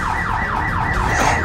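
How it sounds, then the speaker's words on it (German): An alarm blares inside a REWE supermarket at night, a loud electronic siren sweeping up and down in fast, regular wails, steady and close with no talk over it. "Muss ich hier raus. Der Alarm."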